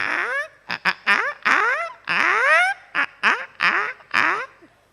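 A human voice mimics a hen's cackling before laying an egg, with a rapid run of short squawks and longer rising clucks, delivered alone and fairly close.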